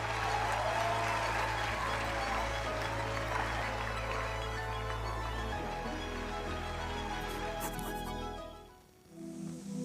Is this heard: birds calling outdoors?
no